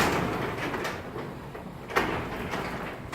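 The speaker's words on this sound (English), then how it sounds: "As you notice, folks, this door's not staying where it's supposed to be." A garage door with a faulty torsion spring slides and rumbles along its track, a continuous rolling noise with a sharper knock near the middle, heard up close without talk.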